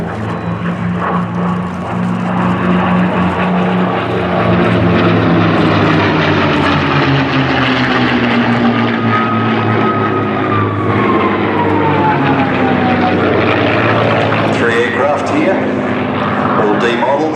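A P-51 Mustang, the Second World War Allied fighter, flies past at the Flying Legends air show at Duxford, its propeller engine droning loudly and steadily with a rising and falling pitch as it passes, over crowd and PA noise.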